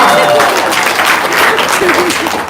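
Audience applause at a seminar, a dense round of clapping from a crowd with voices chattering among it, fairly loud and close throughout.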